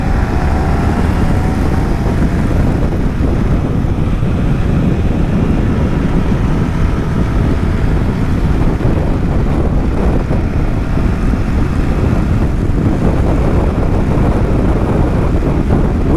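Heavy wind buffeting the microphone while riding a BMW F800GS motorcycle through the Adelaide Hills, a constant loud low roar with no pauses and no talk.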